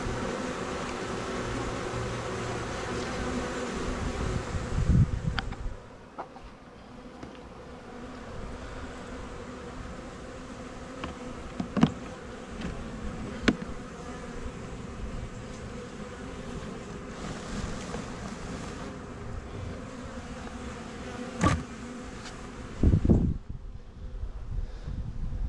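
Honey bees fanning at a swarm box make a soft continuous buzzing drone, with occasional louder bursts as single bees pass close by and faint outdoor wind behind them.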